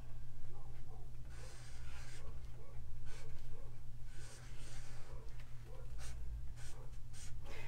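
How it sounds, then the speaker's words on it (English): Hand lettering on a burlap door hanger tag makes short, scratchy bursts of pen strokes in an uneven rhythm, close up over a low steady hum. "So just for now, I am going to just write"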